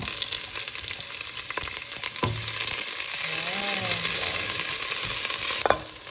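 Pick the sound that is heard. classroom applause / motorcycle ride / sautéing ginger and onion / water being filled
sautéing ginger and onion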